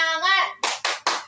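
Scout group children chant briefly, then clap the 'tepuk semangat' routine: three sharp, loud, evenly spaced claps in quick succession, close by.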